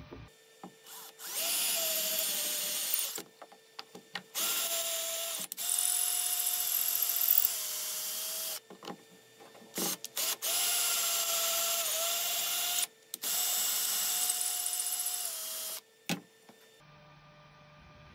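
Power drill boring 6.5 mm holes into a small wooden board, several whining bursts of a few seconds each with short pauses between, close and clear.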